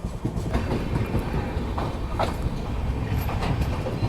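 Kathgodam–New Delhi Shatabdi Express (train 12039) running on the tracks, a steady loud rumble of wheels and carriages with faint rhythmic clickety-clack throughout, no talking.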